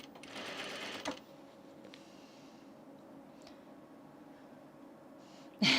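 A sewing machine stitching the cuff of a men's button-up shirt gives a short whirring run at the start, then falls to a quiet hum with faint clicks and a brief burst at the end.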